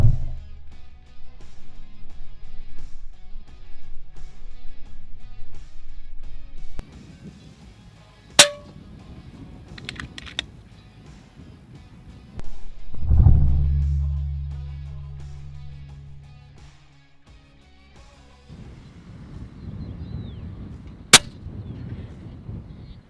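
FX Panthera and RAW HM1000X airguns firing 25-grain pellets during outdoor pest control, two sharp isolated shots spaced well apart over low background noise and faint voices.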